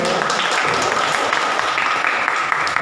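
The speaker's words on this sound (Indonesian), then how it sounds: "kita beri aplaus untuk yang sudah presentasi" A classroom audience gives a steady round of applause for students who have just finished presenting, dense, even clapping from many hands lasting the whole moment.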